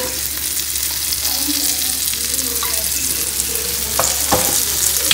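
Thecha fries in hot oil in a pan, a steady close crackling sizzle running throughout, with a few sharper pops near the end and no talking.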